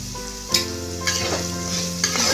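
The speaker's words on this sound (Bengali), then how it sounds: "দিয়ে 1 মিনিটের মতো নেড়ে নেব" Chopped ginger stirred and fried in a pan, a near, steady sizzle with a few sharp spatula scrapes and knocks at roughly half-second to second intervals, with no talking.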